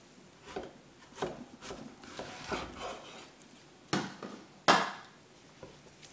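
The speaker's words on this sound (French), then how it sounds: "Je coupe la courgette en deux" A knife cutting a courgette in half on a board, a series of short separate chopping knocks, the last two sharper and louder, with quiet handling in between.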